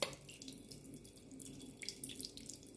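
Ground banana-leaf mixture for halwa is poured through a strainer in a home kitchen, giving a faint, close, continuous liquid trickle and splash with small spattering bursts, heard alone.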